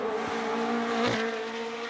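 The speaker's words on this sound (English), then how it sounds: "we listen to what the cars sound like" A car engine revs as a steady, droning note that swells briefly midway and then settles, heard alone with no voices.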